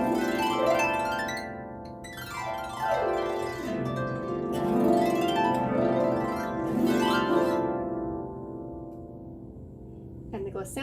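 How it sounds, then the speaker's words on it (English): Rippling folk harp glissandos sweep up and down in repeated waves, bright and resonant, ringing over sustained low notes with no voices. "the sound most people associate with harps, is something we call a glissando"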